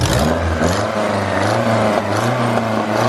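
A Honda Civic engine with an exhaust manifold leak revs up and down repeatedly, with a raspy, puffing exhaust note throughout, loud and close.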